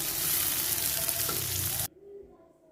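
Garlic, shallot, chili and tomato sizzle and fry loudly in a hot pan, a continuous close crackle that cuts off abruptly, leaving faint quiet background.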